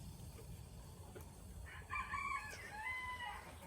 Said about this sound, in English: The little rooster wants his mealworms.